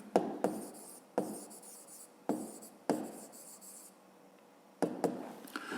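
Chalk or marker strokes on a board during a fifth-grade math lesson, a series of short, sharp scratching bursts with pauses between them, close and clear with no talking over them.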